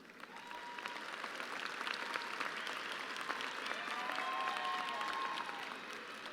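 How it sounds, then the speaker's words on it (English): Applause at a high school graduation ceremony, a broad, sustained wash of clapping from a large crowd in a big hall that holds steady throughout. "May we please have a round of applause to recognize these Honor Society graduates."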